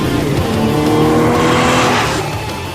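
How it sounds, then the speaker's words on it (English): A 2012 Porsche 911 (991) Carrera S with 400 horsepower accelerates, its engine note loud, close and sustained as a steady roar with layered tones throughout, with no talk over it. "The car accelerates very smoothly and very quickly."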